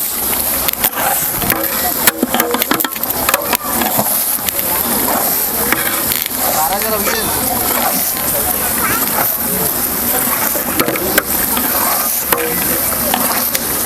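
Tomato paste is stirred into mutton cooking in a large pot over a village wood fire, with steady scraping and sizzling, wood crackling and occasional clatter, while someone speaks over it.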